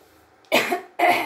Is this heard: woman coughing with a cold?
yes